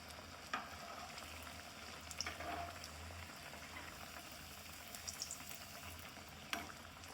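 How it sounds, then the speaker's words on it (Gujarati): Aloo tikki frying in moderately hot oil: a steady crackling sizzle runs throughout, close and even, with a few brief clicks and taps. "જેથી કરીને બંને બાજુ કમ્પ્લીટલી ફ્રાય થઈ જાય."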